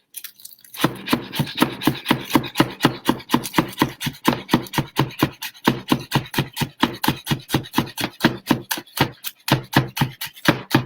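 A knife roughly chops green onions on a board, a fast, even train of crisp knocks repeating close and loud for several seconds with a couple of brief pauses, no voices.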